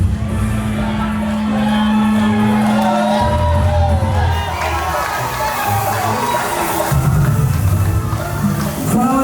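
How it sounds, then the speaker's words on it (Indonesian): A packed crowd of officials, artists and residents at a halal bihalal gathering cheers and whoops loudly, with shouts and a hum of voices rising and falling throughout. "Tepuk tangan."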